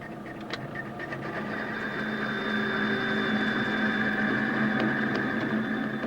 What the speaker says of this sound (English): The noise you hear tells us the cutting tool is vibrating.